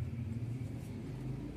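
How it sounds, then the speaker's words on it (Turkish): Steady low rumble of road traffic, with cars passing close by in a continuous drone and no voices. "Keşke şu arabaların sesi de olmasa ki."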